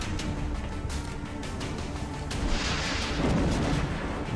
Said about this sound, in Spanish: Venga, Cegato, otro buen disparo.